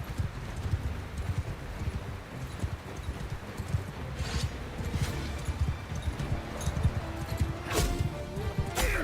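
Horse hooves clip-clop steadily in the medieval battle game Bannerlord 2, a rapid rhythmic trotting that runs throughout over a busy din of clashing combat and distant shouts, with an occasional whinny.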